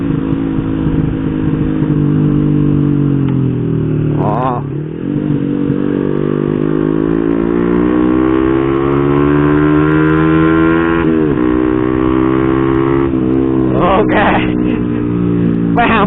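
A stock Honda Revo motorcycle fitted with a BRT Type S1 camshaft pulls away and accelerates through rising engine pitch, close and loud, with brief clatter and bursts of wind noise.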